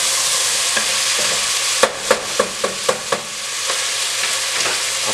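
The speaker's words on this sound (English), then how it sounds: "we're going to cook on high for a little bit" Lentil soup ingredients cooking on high heat in a pot, a steady hissing sizzle with a quick run of sharp spoon scrapes and taps against the pot, close and clear with no talking.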